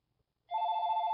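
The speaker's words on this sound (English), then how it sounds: "That's my phone ringing." A phone ringing at a webcam desk, one steady electronic ring tone that starts abruptly after brief near-silence and holds clear and moderately loud.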